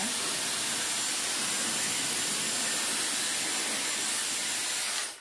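A loud, steady rushing whoosh of blown air from a Dyson Airwrap hair styler running continuously at close range, cutting off at the end.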